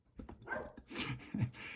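A dog barks a few times nearby during an indoor geometry class, short yelps and woofs scattered across a couple of seconds with room noise around them.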